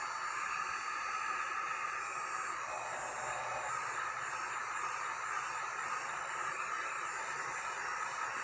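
A heat tool warms spilled alcohol ink on a beach-themed tumbler, giving a faint, steady airy hiss that runs unbroken throughout.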